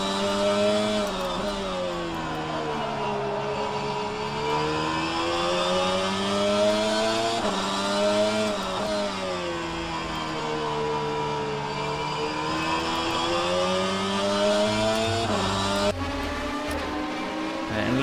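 Super GT500 race cars in a racing video game at Fuji Speedway, engines droning loudly and continuously with pitch swooping down under braking and climbing again on acceleration, several cars overlapping close by.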